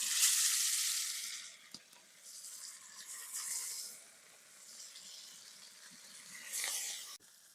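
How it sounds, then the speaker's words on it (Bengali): Fish frying in hot oil gives a steady, soft sizzle with bright crackling surges, fading and swelling over several seconds, with no voices. "এবার তেলে মাছগুনা ভেজে নেছে।"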